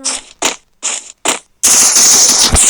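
Gunfire in the Free Fire video game: four short separate bursts, then a loud, continuous stream of rapid shots to the end.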